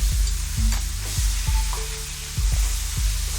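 Curry powder, black pepper and salt sizzle in a hot pan, a steady frying hiss broken by regular clanks and scrapes of a utensil stirring, close and fairly loud, no talk.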